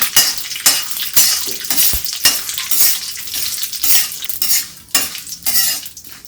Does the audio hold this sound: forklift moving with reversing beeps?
no